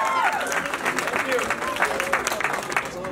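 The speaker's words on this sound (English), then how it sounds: "please give a big round of applause to Amit Bhakta." Applause and clapping from an audience at an appreciation event, a continuous dense patter with crowd noise and cheering mixed in, with no break across the clip.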